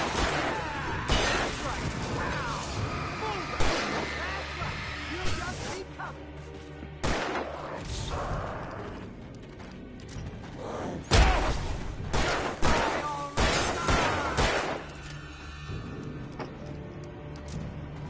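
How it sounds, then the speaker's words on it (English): Repeated gunshots in Alan Wake Remastered, loud sharp bursts scattered irregularly over a rumbling game background, with voices talking between shots. "Just shoot them!"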